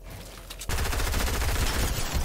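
Loud Fortnite gunfire in a dense, rapid burst, quieter for a moment before the shooting jumps up and rattles on continuously with no talking.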